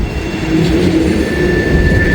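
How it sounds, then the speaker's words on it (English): An Amtrak train rolls across elevated tracks over the Ohio River near Cincinnati's Union Terminal, a loud, steady rumble with a faint high tonal whine from the wheels. "So this train's right now going across the Ohio River."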